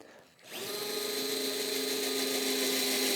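A DeWalt DCF680G2 7.2V cordless driver with a small pilot drill bit spins up after a brief pause and runs steadily with a high whine into wood, loud and close, staying constant to the end.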